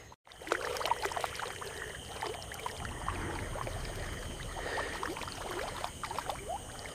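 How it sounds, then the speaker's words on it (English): A marsh rabbit paddles frantically across a water channel in the Everglades, producing continuous soft splashing and trickling water sounds, close and steady, with small irregular splashes and no voices. "The marsh rabbit frantically paddles across the channel."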